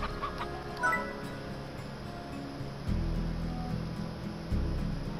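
Chickens in the video game Slime Rancher cluck softly in brief scattered calls over low game music and ambient thuds, with no talking.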